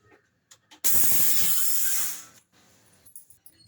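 A kitchen mixer grinder grinds dry ingredients into powder for a morning drink in one loud whirring burst of just over a second, then cuts off abruptly, leaving quiet handling noises.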